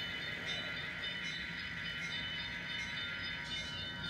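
A model railroad train runs along its layout track, producing a steady, fairly faint rolling rumble and hiss without pauses or talking.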